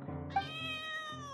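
Cat in the video game Genshin Impact gives a single clear, rising meow, close and short, with no one speaking.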